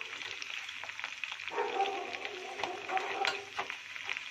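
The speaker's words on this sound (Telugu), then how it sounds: "Just light brown colour వచ్చేంతకి fry చేసేసుకుందాం." Garlic frying in hot oil for a spicy raw mango thurumu chutney, a steady close sizzle with occasional stirring scrapes, swelling louder midway through.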